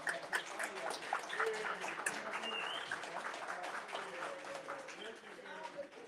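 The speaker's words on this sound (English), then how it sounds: "Yeah, come on, round of applause." Scattered audience applause at a Black History event, fairly faint and thin, mixed with crowd murmur and voices talking over the clapping.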